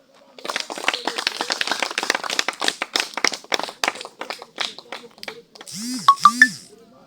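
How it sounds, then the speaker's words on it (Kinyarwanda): A church congregation claps in a quick rhythmic run of sharp hand claps, close and fairly loud, thinning out before a brief high tonal voice or whistle near the end. "Mwikomera amashyi namwe."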